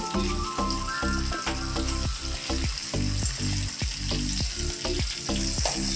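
Byadagi dried chillies sizzle loudly in hot oil in a pan for dhaba-style paneer, a dense continuous crackle broken by rhythmic scrapes of a spoon stirring, close and alone without speech.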